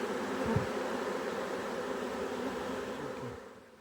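A swarm of honeybees buzzing steadily near a hive, a faint continuous drone with a few individual bees passing close, easing slightly at the very end.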